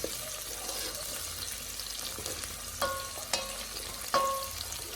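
Beef stir-frying in a pan gives a steady sizzle and hiss, broken by a few sharp clinks of a utensil against the pan near the end.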